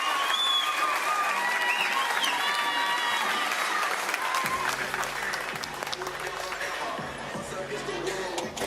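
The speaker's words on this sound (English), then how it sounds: "The crowd definitely the loudest when we see him have success." A crowd at a professional bowling tournament in Missouri bursts into sustained applause and cheering after a strike, the clapping dense and continuous, with a commentator's voice speaking over the noise.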